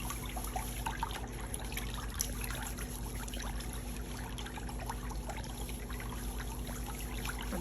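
Water sloshes and trickles steadily in a pedicure foot basin as feet move in it, a continuous close liquid sound with a low hum beneath.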